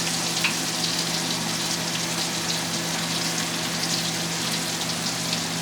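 Scallops pan-searing in butter give a loud, constant sizzle and crackle, close up and unbroken, with no one talking.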